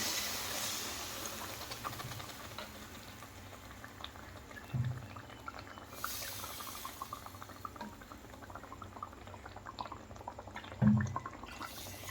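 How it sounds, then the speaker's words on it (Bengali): Water coming to a boil in a cooking pot on a home stove while making an egg curry, a soft steady bubbling hiss with occasional louder pops, faint and continuous. "বয়েল এসে গেছে"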